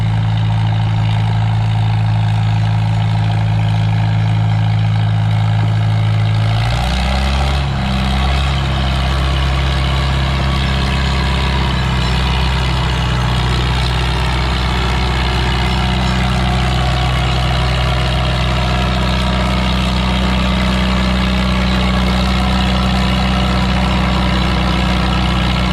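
A Farmall tractor engine idles loudly and close at a tractor pull with a deep steady low throb, then shifts pitch briefly around seven seconds and settles into a rumbling idle again.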